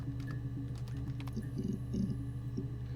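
Computer keyboard clicks from the video game Her Story, scattered light taps in irregular bursts over a low steady hum, fairly quiet.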